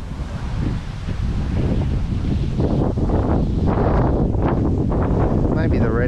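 Steady wind at Kennington Reservoir on a cool day of redfin fishing, buffeting the microphone with a constant loud rumble and hiss throughout.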